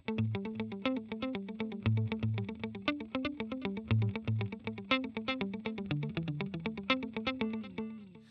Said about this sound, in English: using a longer delay around 375 milliseconds and upping your delay level a little bit will get you this kind of sound